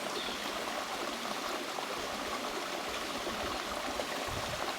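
The River Greta rushes steadily past Brignall Mill, a continuous broadband wash of flowing water with no pauses, sounding close and fairly strong.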